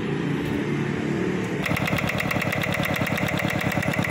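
A Mitsubishi NM7 7 hp diesel engine fires up after a short whirring start, then runs close and loud with a fast, steady rhythmic chugging beat.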